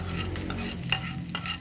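Hot tempering is poured into roasted brinjal chutney and stirred, giving a soft continuous sizzle with a few light spoon scrapes, close and brief.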